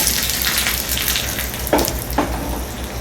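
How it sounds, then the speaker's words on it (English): Mustard seeds hit hot oil for a prawn curry and set off a constant, dense sizzle, with a couple of sharper pops near the end, close and steady, with no one speaking. "half teaspoon of mustard seeds. Let it splatter"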